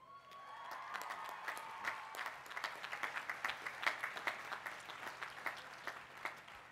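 An audience claps at a college of agriculture commencement ceremony in 2014, producing a steady wash of applause that stays fairly faint and distant throughout, with no speech over it.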